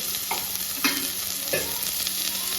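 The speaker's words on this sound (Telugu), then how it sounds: "ఆనియన్స్ అన్నీ కూడా గిన్నెలో వేసేసాను దీంట్లోనే ఒక్క స్పూన్ ఆయిల్ అన్నాను కదా సరిపోతుంది" Onions frying in about a spoonful of oil in a pot for fish curry, a constant close sizzle with a few soft stirring knocks and scrapes.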